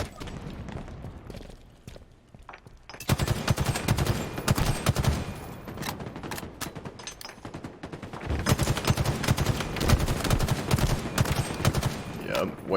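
Rapid bursts of video game gunfire, dense cracking shots in long volleys with a short lull partway through, loud and continuous, mixed with other game effects.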